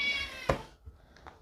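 A cat meowing just after waking up, one drawn-out whining meow at the start followed by a short sharp sound and faint quieter chirps, heard close and alone.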